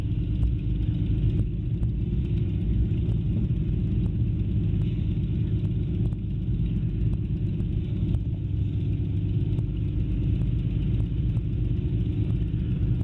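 A Spitfire aircraft taxiing on the ground at Duxford, its engine a steady, dense low rumble with an even throb throughout, close and continuous with no talk over it.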